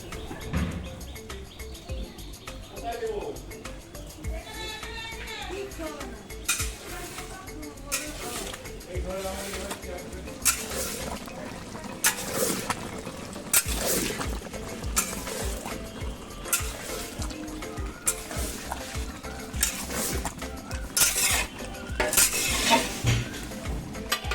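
Ghee and ground garam masala go into a hot pan while potol and prawns cook for a large event meal, with bursts of sizzling, repeated stirring and clanks of a metal spatula and pot, and speech and background noise throughout.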